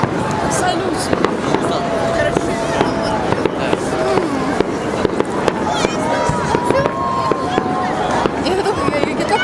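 A Victory Day fireworks salute over Tula on May 9 bursts with repeated sharp bangs and crackles, some near and loud, while a crowd of onlookers chatters throughout.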